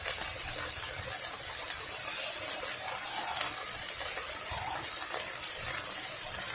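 Water poured from a glass into tomato paste for a Puerto Rican lasagna (pastelon), a steady splashing, gushing pour heard close and alone for several seconds.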